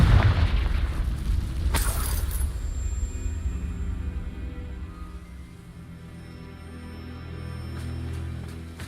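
Confringo blasting spell blast from the game Hogwarts Legacy: a loud, close booming burst near the start with a sharp crack, fading into a low rumble and quieter ambience.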